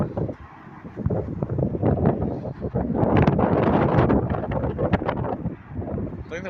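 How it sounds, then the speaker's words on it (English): Strong outdoor wind buffeting the microphone in loud, rough gusts, a continuous roaring rumble that swells and eases with irregular crackling bursts. "It's just really windy out here"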